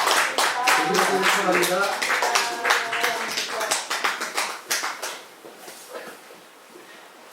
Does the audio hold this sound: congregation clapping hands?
yes